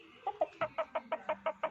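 A common myna mimicking a hen's clucking gives about nine short, evenly spaced clucks in quick succession, close and clear, with no talking.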